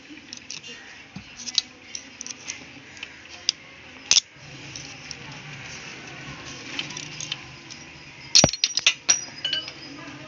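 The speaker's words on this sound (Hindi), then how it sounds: "अब हम इधर वाले को खोल रहे हैं पेचकस की मदद से।" Thin screwdriver unscrewing a tight part on a Yamaha FZ16 or Fazer motorbike engine during balancer drive gear fitting: scattered small metallic ticks and clinks, with a couple of sharper clacks, close up.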